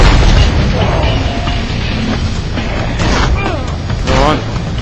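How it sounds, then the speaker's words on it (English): Another explosion in the video game SpyHunter: Nowhere To Run, a loud booming blast that decays into rumbling debris, with someone speaking over it and a second burst near the end. "Another explosion."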